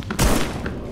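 A single gunshot in the Pine Harbor demo video game, one short thumping blast standing out from a quieter background.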